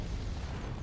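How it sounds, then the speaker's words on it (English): A missile exploding against a spaceship in the space combat game Fractured Space, a heavy rumbling blast filling a short moment, loud and close with a dense low roar. "that last missile just ripped me apart"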